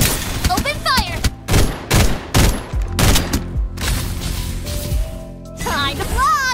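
Rapid game gunfire from Farlight 84 rattles in repeated bursts, punchy and close, mixed with whooshing effects and game announcer voice lines.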